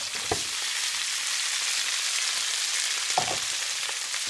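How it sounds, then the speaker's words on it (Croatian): Cooked rice dropped into hot oil sizzles in a steady, close hiss, broken by two soft thumps from stirring. "Sad ga ubacujemo isto na vrelo ulje."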